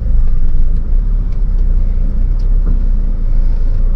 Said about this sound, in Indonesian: ini sambil angkat kopling tanpa gas ya